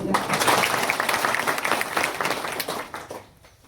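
Loud crowd applause at an Aam Aadmi Party village meeting in Mogra panchayat, sustained dense clapping for about three seconds before tapering off, close and full.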